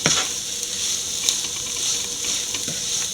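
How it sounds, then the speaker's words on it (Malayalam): Beef cutlet mixture sautéing in a pan, a steady bright sizzle with faint scraping stir sounds running throughout, close and even, with no talking. "നല്ലപോലെ വഴറ്റി കൊടുക്കുക എല്ലാം നല്ലപോലെ കൂട്ടി നല്ലപോലെ ചേരണം"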